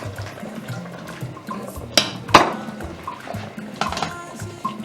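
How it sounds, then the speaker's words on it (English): Vegetable and fish soup is strained through a metal strainer in a kitchen, with liquid pouring and sloshing and a couple of sharp clanks of a ladle against the strainer and pot. "I don't want to see the chaff of the vegetables in my soup, I will strain it."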